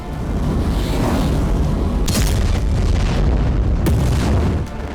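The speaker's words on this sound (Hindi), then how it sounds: "कहीं एक साथ दर्जनों बम बरस रहे हैं" Bombs exploding in Gaza during a bombardment, heard as continuous heavy rumbling booms with a couple of sharper blasts standing out, loud and dense throughout.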